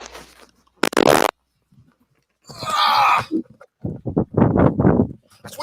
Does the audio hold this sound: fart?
yes